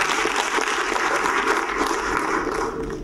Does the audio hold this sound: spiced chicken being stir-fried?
no